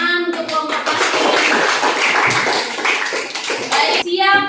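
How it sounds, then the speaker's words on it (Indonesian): Children in a classroom clap for a student group, a dense burst of hand claps lasting several seconds, framed by a teacher's voice speaking at the start and end. "Tepuk tangan untuk kelompok plastik."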